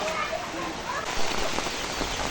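Steady rain patters and hisses throughout, with a faint voice murmuring underneath.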